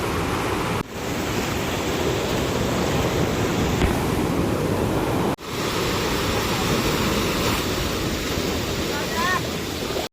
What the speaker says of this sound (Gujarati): બે બાજુ દરિયાનું પાણી આવે છે